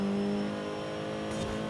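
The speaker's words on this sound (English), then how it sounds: "A little turbo action, turbo noises." Forza Horizon 5 car engine drones steadily with turbo whine layered in, a short sustained hum of in-game engine noise with no talking.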